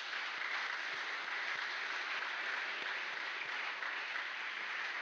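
A dinner audience at the Harvard Club in New York breaks into a sustained round of applause, dense steady clapping from many hands filling the room for the full stretch, with no talk over it.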